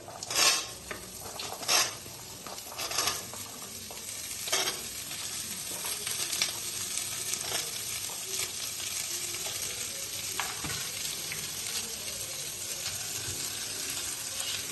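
Papaya pieces sizzle and fry in a pan for a village-style vegetable curry, with several sharper scraping stirs early on before settling into a steady, continuous sizzle.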